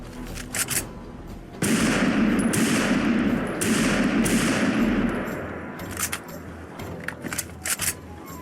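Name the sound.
Cowboy Carbine semi-auto rifle firing in Fallout 4 video game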